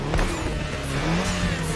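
A Mini Cooper engine in a racing video game hums and revs steadily with a slight whine, sounding synthetic and continuous, with faint rumble underneath.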